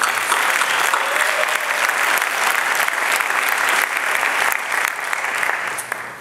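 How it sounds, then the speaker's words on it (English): An audience in the Bagdad Theater breaks into a big round of applause, loud sustained clapping filling the hall at an even level for several seconds, with no voice over it, tapering slightly at the end. "so let's give them a big round of applause."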